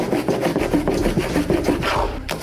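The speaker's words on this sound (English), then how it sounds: "angle it quite acutely to the grain and just drag it across flat onto the timber" A hand scraper is dragged repeatedly across painted timber furniture to strip paint, giving close, rhythmic rasping strokes, loud and steady with no talking.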